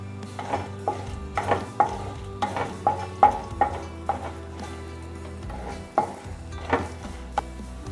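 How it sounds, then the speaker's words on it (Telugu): Cumin, mustard seeds, urad dal, chana dal and dried chillies fry in hot oil, sizzling steadily while a utensil clinks and scrapes the pan in repeated close strokes. "దీంట్లోకి జీలకర్ర, ఆవాలు, మినప్పప్పు, శనగపప్పు, ఎండుమిర్చి ఇవి వేసి"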